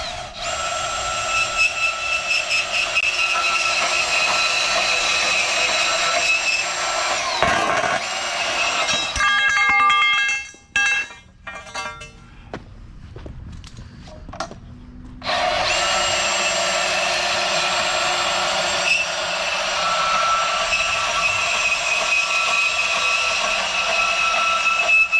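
Steel chain link gate pipes are cut to length with a loud, steady power-tool screech that breaks off partway through, pauses with scattered clanks, then resumes for the final stretch.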